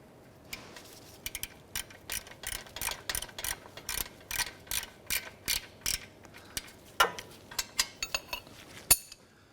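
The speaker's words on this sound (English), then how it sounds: "Just going to tighten these down now." A hand ratchet tightens 14 mm exhaust manifold bolts on a Hyundai, giving quick bursts of sharp metallic clicks, each stroke a short run with small gaps between, fairly quiet and close.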